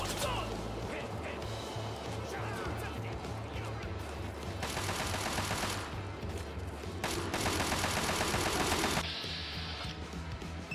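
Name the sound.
gunfire from the video game Fallout 3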